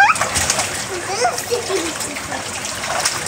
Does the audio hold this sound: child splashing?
yes